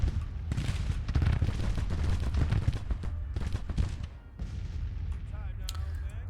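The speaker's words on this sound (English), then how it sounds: "You see how the artillery perked up that game." Cannon fire in Grand Tactician: The Civil War battle, a dense, steady stream of booming artillery and crackling gunfire rolling almost continuously, with a brief lull near the end before the barrage resumes.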